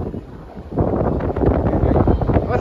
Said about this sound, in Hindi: और हवा चल रही बहुत तेज ना